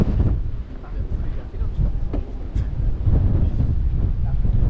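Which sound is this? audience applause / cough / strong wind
strong wind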